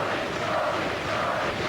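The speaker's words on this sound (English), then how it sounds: "The crowd getting right behind Jody Fleisch." A packed wrestling crowd at a 2002 FWA King of England tournament show roars steadily in support of Jody Fleisch, a dense, unbroken wall of cheering.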